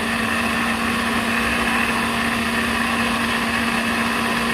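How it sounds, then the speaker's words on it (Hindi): An electric grinder blends garlic and a piece of ginger for a mint and coriander chutney, a loud, steady motor whine running without a break, with no voices over it. "इसको डाल के हम थोड़ा सा चलाएंगे ताकि जब पीस जाए अच्छी तरह ग्राइंड हो जाए।"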